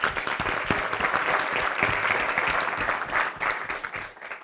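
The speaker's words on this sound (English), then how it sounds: "So a quick round of applause for Maytree." Audience applause at a talk-series event, a dense patter of many hands clapping steadily and fairly loudly, then thinning and fading toward the end.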